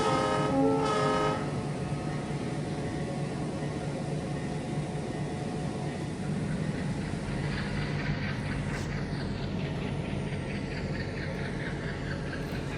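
Freight train locomotives in the Trainz 2019 simulator being cut from their train at a yard: a horn blast opens over a steady diesel rumble, followed by continuous rolling noise with a metallic squeal rising later.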